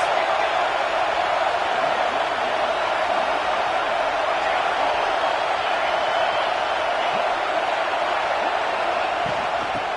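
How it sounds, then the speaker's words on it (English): A stadium crowd at a Clemson football game keeps up a constant dense roar at full volume throughout, steady with no lulls, and a commentator's voice sits faintly beneath it. "This crowd trying to make life miserable for this offense."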